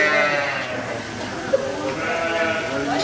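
Sheep bleat during shearing, drawn-out wavering calls from fairly close by, repeated a few times over a rumbling background with faint voices.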